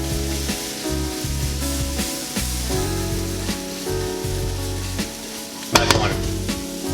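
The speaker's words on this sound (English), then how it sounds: "let it simmer a little bit out here" Salmon scrambled eggs with dill and heavy cream bubbling in a pan, a close continuous sizzle with rhythmic low scraping of stirring and a sharp clatter near the end.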